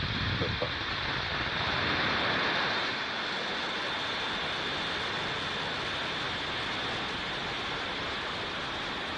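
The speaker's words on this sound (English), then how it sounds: "5, 4, 3, 2, 1. Mission liftoff." SpaceX Falcon 9 rocket lifting off, a dense, continuous roar of broadband rumble that holds steady and loud for the whole stretch without pause.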